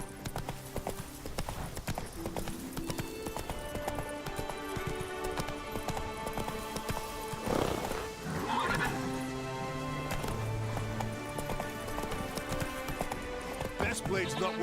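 Roach, a horse in The Witcher 3, gallops with quick, continuous hoofbeats, a whinny rising partway through, over game music and background voices talking.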